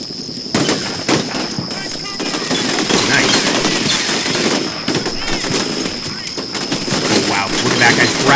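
Sustained gunfight in the game Combat Mission Shock Force 2, with dense overlapping automatic fire and scattered single shots rolling continuously, loud and close, while voices talk over the battle.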